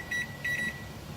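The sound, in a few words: kitchen timer being set, beeping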